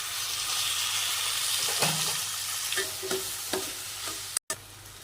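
Onions and tomatoes being sautéed in a pan for spinach dal, a soft steady sizzle with occasional spoon scrapes and taps against the pan, close but fairly quiet.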